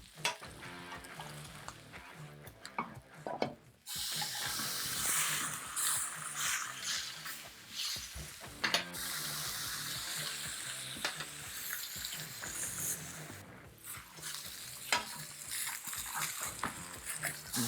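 A steak sizzles loudly in a hot pan just after being flipped, a dense continuous frying hiss with crackles and a few scrapes, close and steady.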